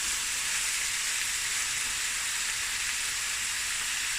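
Meat and vegetables browning in a pot for a winter stew, giving a steady, close, even sizzle and hiss of frying with no pauses or voices.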